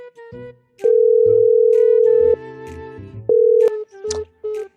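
A telephone plays a series of loud, steady electronic tones, some long and some short, after a call is cut off, broken up by brief gaps and small clicks.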